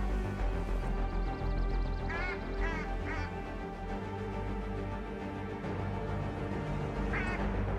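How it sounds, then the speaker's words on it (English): A drake mallard duck in a flock during a duck hunt in the New England mountains, giving a few scattered nasal quacks in short bursts over steady outdoor noise, moderately distant. "We got our dime potential Drake Mallard duck coming in."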